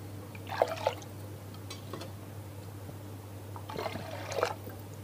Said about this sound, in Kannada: ಈ ಅಕ್ಕಿ ಎಷ್ಟು ತೊಗೊಂಡಿದ್ದೀನೋ ಇದಕ್ಕೂ ಕೂಡ 3 ಪ್ರಮಾಣ ನೀರು ಹಾಕ್ತಾ ಇದ್ದೀನಿ